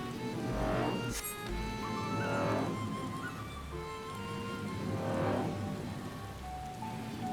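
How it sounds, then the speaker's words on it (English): Steady rain falling everywhere in the Final Fantasy XIV video game world, a continuous hiss of drops on surfaces with gentle swells and faint rumbles underneath. "God, it's just raining everywhere."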